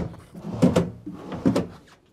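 Good-sized drawers in the master bedroom of a 2023 Newmar Dutch Star 4325 motorhome slide open and shut, two close, distinct thumps with a soft rolling slide between them, alone at moderate volume.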